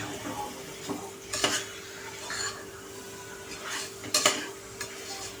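Chicken liver is stirred into masala in a pressure-cooker pot, with soft scraping strokes and a few sharper clacks of the spoon against the metal over a faint low sizzle.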